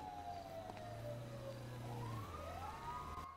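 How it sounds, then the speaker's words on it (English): Fire truck siren in the game GTA, wailing with rising and falling sweeps over a low engine rumble, moderately distant and fairly quiet, with no speech. "It's the actual fire truck."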